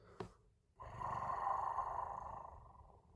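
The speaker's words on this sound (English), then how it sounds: "And then just there we get a sort of low growl" A low, sustained growl rumbles faintly in the background of an a cappella music piece, following a brief sharp click, then slowly fading.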